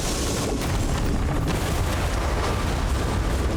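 Hell Cannon turrets blowing up in the video game DOOM: The Dark Ages, a dense, continuous roar of booming explosions and rumbling blasts filling the scene at loud, steady level.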